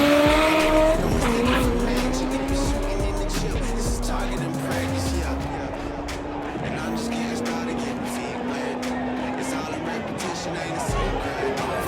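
An all-wheel drive K-Series drag car launching at a drag strip, with a loud high engine whine climbing through gears, a low rumble and tire noise, as voices talk over it.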